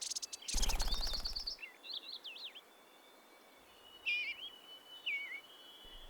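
Birds sing outdoors in a warm 23-degree setting, with bright warbling phrases rising and falling against a constant buzz of insects, after a brief loud rustling burst near the start.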